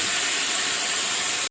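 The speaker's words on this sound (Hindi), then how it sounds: "अब हम इसमें मसाले ऐड कर देते हैं और इसको 2 मिनट भून लेते हैं।" Dry coriander, garam masala, cumin and chili flakes fry in a pot for yakhni pulao, making a steady, loud, close sizzling hiss that holds without a break and then stops abruptly.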